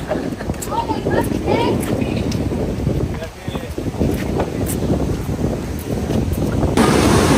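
Wind gusting at Ipanema Beach in Rio de Janeiro at night, a steady broadband roar with wind buffeting the microphone and surf beneath, continuous throughout and swelling louder near the end, with voices talking over it.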